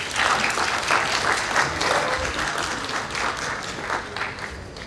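Audience at a startup weekend pitch event applauding a presenting team, dense sustained clapping from a sizable crowd, fairly loud and steady, gradually easing toward the end.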